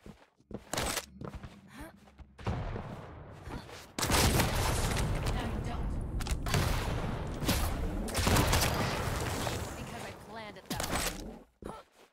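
Loud explosive blasts and weapon fire from rocket jumps in the arena shooter Quake Champions, punchy bursts clustered amid continuous game action, with a voice heard briefly.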